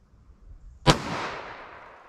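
A single sharp gunshot from a Ruger LCRX .22 Magnum revolver firing Winchester Silvertip ammunition during a velocity test, a loud crack followed by a short decaying outdoor echo.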